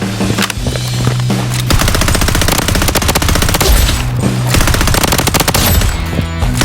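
Rapid automatic gunfire in the mobile shooter Blood Strike: loud, sustained bursts of fast, evenly spaced shots filling the whole stretch, with no voices.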